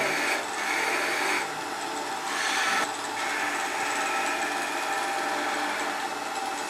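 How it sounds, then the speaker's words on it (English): Spindle gouge turning wood on a lathe at a live woodturning demo, a faint continuous scraping hiss with brief louder cutting passes, no talk. "Now, this spindle gouge, just defining the shape of the figure."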